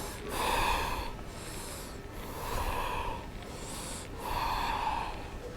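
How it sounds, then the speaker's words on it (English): During a yoga warm-up of joint and spinal movements, slow breaths are drawn in and let out in three long, airy swells, close and clear, with no talking. "Inhale up, exhale down."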